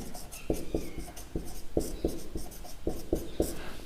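Pen strokes scratch across paper or a board in a steady series of short taps and scrapes, close and fairly quiet, as a Hindi coordinate-geometry lesson works out the section formula; no voice is heard.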